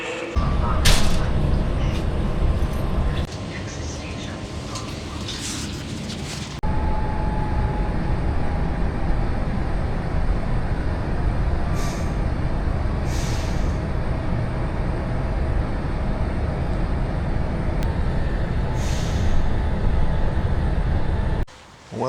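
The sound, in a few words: train arriving at the station in Poland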